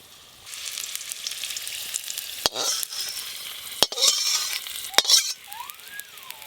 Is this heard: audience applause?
no